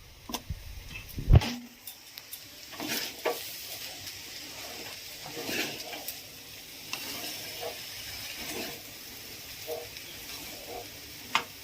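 Rice and chopped pineapple fry gently in a pan for pilau, a soft steady sizzle broken by scraping stirs and occasional clinks of the spoon against the pan, close and fairly quiet.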